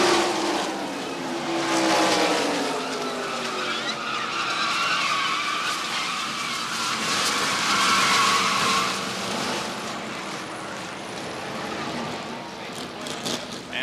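NASCAR Winston Cup stock cars at Daytona during the 1990 Pepsi 400 roar past in a loud, sweeping pack, engines rising and falling as they pass close by.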